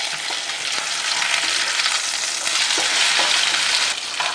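Hot oil sizzles loudly over a frying fish in a pan, a dense continuous crackle with faint clicks of stirring, close and without voices.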